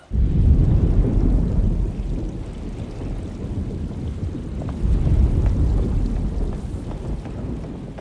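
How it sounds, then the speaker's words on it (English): A thunderstorm with rain in the video game Alone in the Dark: heavy, rumbling thunder rolls over a dense wash of rain and wind, loud and continuous, swelling at the start and again midway. "Looks like a storm's coming."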